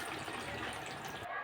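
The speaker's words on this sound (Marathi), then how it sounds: "पाणी टाकून घ्यायचं आहे." Water gushes briefly and steadily into a pan of stuffed ridge gourd curry, a close, rushing pour that cuts off at the end.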